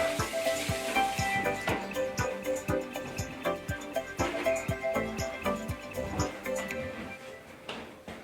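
Shrimp scampi sizzling on hot sizzle plates fresh from the broiler, a steady close crackling hiss with rapid regular ticking pops that fade toward the end, no voices.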